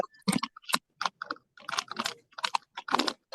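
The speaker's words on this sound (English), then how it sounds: "Just somebody typing?" Keys clatter on a computer keyboard in short irregular bursts with brief pauses, close and fairly quiet, picked up over an open microphone during a meeting call.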